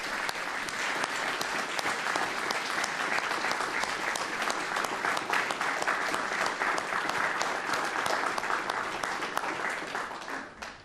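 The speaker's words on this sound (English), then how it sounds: "please join me in applauding the actions of the officers that you see before you." Sustained, full-room applause rings out for police officers at a department awards ceremony, a thick even wash of clapping holding steady for about ten seconds before cutting off.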